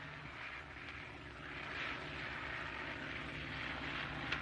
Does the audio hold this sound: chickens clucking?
no